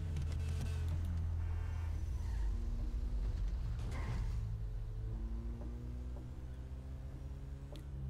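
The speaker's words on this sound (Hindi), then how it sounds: "ये डाउन शिफ्ट की आवाज़ बड़ी प्यारी है इस गाड़ी की" A 1999 Honda Civic in GTA 5 drones low and steady, its pitch dropping and climbing through downshifts, with a brief revving burst mid-way and a continuous mechanical hum throughout.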